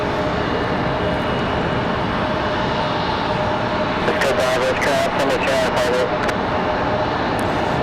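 An airplane taxiing at night at Raleigh-Durham International Airport, heard as a loud, steady engine roar throughout, with people talking over it.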